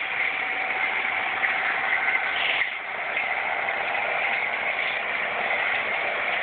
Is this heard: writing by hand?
no